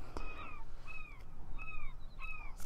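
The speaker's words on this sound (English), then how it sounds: "I'm gonna choke the life of those damn seagulls." Seagulls calling in the video game Fishing Planet, four evenly spaced mewing cries, each dropping in pitch, sounding moderately distant over a soft, steady background rumble of wind and water.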